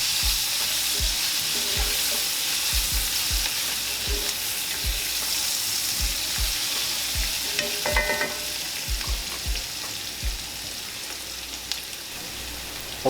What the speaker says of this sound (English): we just want to let this garlic toast up a little bit